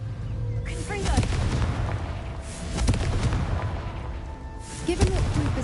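A Confringo blasting spell erupts in Hogwarts Legacy as repeated booming explosions, three heavy blasts spaced a couple of seconds apart over a dense, rumbling game soundscape.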